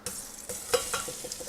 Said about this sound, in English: And then let's add our shrimp.